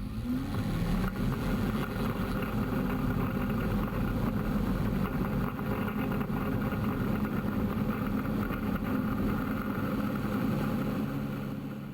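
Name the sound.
light aircraft taking off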